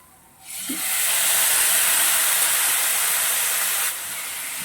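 Tomatoes tipped into a pan of frying onions set off a sudden loud sizzle, a steady hiss that holds for a few seconds before easing slightly, with no talking.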